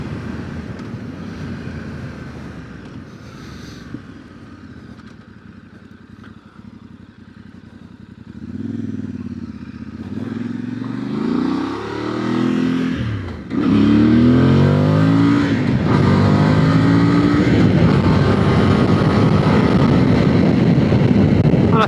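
A Voge Valico 800DSX Rally motorcycle being ridden on road and off-road, its engine droning steadily then climbing in pitch under acceleration, loud and continuous with wind noise and no talk.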